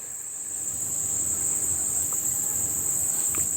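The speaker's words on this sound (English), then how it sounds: "I got some kind of weird little bee somewhere buzzing around I can hear" A small bee or similar insect hums steadily near a river during outdoor fishing, a continuous high-pitched buzz mixed with chirping insect noise that stays constant for several seconds.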